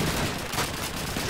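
An MG42 machine gun firing in Call of Duty 2 during a World War II Russian campaign battle, heard as a dense continuous roar of rapid gunfire with no gaps over a short stretch.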